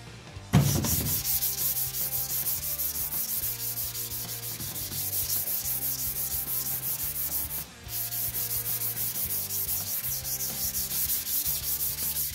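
Steady rhythmic rubbing as a car headlight lens is wet sanded with 1500 grit sandpaper and water, close and fairly loud, with a brief pause partway through and no talking.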